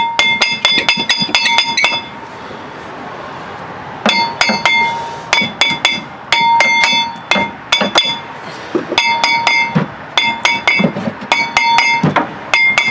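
Repeated sharp metallic hammer blows on a car brake rotor to free a seized bearing, fired in quick ringing bursts with short pauses between volleys, loud and close.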